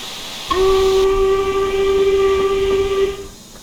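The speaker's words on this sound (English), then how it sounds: "These do get a short whistle and a long whistle." A steam locomotive whistle in Train Simulator Classic on the Stainmore, Shap and Eden Valley route gives one loud, sustained steady tone lasting about two and a half seconds, then cuts off cleanly.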